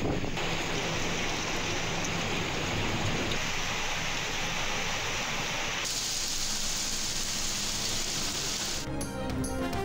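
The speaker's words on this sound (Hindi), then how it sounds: "इस्लामाबाद और पंजाब के मुख्तलिफ शहरों में मूसलाधार बारिश।" Heavy monsoon-style downpour in Pakistan, a dense, constant roar of rain with a steady hiss that never lets up, close and loud, with a brief rustle near the end.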